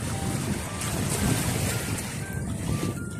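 Sea waves roll in on the shore on a windy evening, a continuous wash of surf mixed with heavy wind buffeting the microphone, with no speech.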